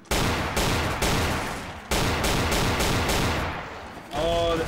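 Full-auto gunfire in the video game Code Name Cure, loud rapid bursts of shots rattling in quick succession with short pauses between strings, ending with a brief metallic ringing tail.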